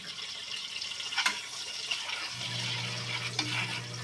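Butter melting in a frying pan with a pinch of salt, giving a steady close sizzle and hiss with a faint low hum, a few brief clinks and scrapes, no voices.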